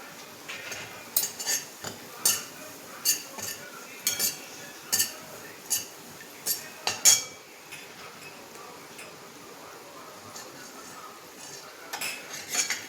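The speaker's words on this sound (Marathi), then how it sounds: "आता सुंठ भाजून घेणार आहे याच्यात" Dry ginger roasting in a pan for homemade onion-garlic masala, with a spatula clinking and scraping against the metal in a steady series of sharp taps, fairly close, with no talking.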